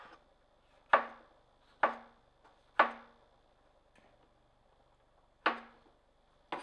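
A knife chops a tomato into small squares on a cutting board for a nopales and panela cheese salad, sharp distinct thunks spaced about a second apart, close and clear against quiet.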